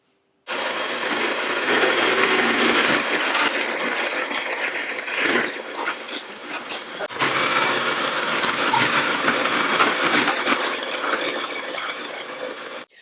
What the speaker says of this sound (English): into the food processor is going to go our fresh carrot, onion, ginger, celery, and garlic